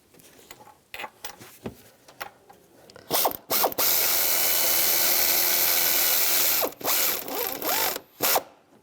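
A hand ratchet tightens bolts on a 2006-2011 Cadillac DTS during knock sensor work: scattered clicks and taps give way to a long, steady ratcheting buzz, then a few more clicks, close up with no speech.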